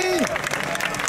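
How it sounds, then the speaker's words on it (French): Applause from a crowd at a political speech, a continuous patter of clapping with a voice briefly audible at the start. "que je vous demande d'applaudir"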